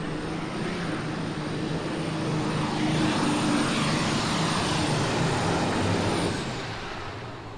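John Deere tractor engine roaring at full power during a tractor pull run, a loud sustained growl that swells in the middle and eases toward the end.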